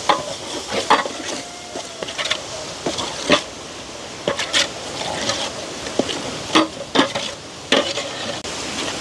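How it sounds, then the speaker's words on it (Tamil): A spoon is stirred through a frying masala of onion, tomato and meat paste for biryani, making repeated close scraping strokes over a soft, steady sizzle, with no talking. "எல்லாத்தையும் படிவாக நல்லா கலந்து விடுவோம்."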